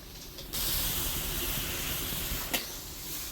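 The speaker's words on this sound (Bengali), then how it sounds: "দেওয়ার পরে জলটা ফুটে উঠছে" Water coming to a boil in a cooking pot with chili powder, salt and turmeric stirred in, a steady close hiss of bubbling and steam that starts abruptly and carries on evenly, with one brief sharper spike.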